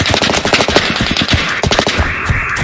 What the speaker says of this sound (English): We could have almost been shot by one of those Candythestripelover's soldiers.